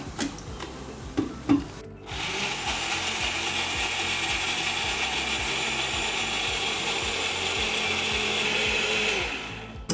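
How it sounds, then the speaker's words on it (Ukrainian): An electric blender whirs steadily for several seconds, crushing raspberries with sugar under a closed lid, loud and continuous after a few brief clicks and knocks at the start, with no voices. "закриваємо кришкою блендер."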